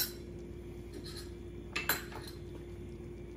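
A metal spoon clinks against a pan while tamarind paste goes into a prawn curry, giving a few sharp taps and scrapes over a steady low kitchen hum, close by and fairly quiet.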